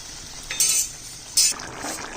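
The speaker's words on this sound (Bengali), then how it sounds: "দিয়ে দিচ্ছি কাঁচা লঙ্কা চেরা।" Slit green chilies drop into a hot pan of greens, giving two short bursts of bright sizzling and clinking close by, set against a steady low background.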